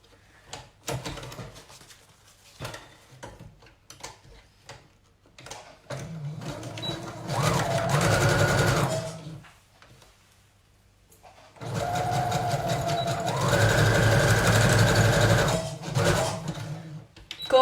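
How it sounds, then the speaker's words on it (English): A sewing machine stitches two layers of jersey fabric with a wide stitch width. It runs in two steady, moderately loud bursts of whirring, each a few seconds long, with a quiet pause between them and no talking. "I'm just going to sew those 2 layers together."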